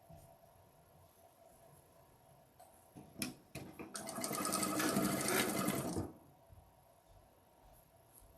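A sewing machine stitching a quilt block seam, a brief rapid whirring run of about two seconds after a few clicks, close and fairly loud, surrounded by quiet room tone.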